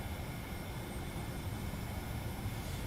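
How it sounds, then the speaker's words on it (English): TFDi 717 jet engines in a flight simulator cockpit, a steady broadband drone that stays fairly constant and moderately loud for the whole stretch, with no voices on top. "I just heard the engines go down a little bit. Now they're going back up."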